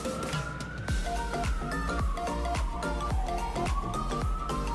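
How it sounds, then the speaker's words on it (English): A wailing siren rises and falls continuously, loud and close, over a thumping musical beat with repeated low drum hits. "You'll probably hear sirens"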